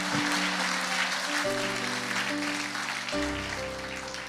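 A church congregation at an Easter service applauding and cheering to acclaim Jesus, a loud sustained wash of clapping and voices with held musical tones beneath.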